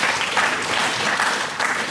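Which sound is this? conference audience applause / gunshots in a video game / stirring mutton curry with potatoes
conference audience applause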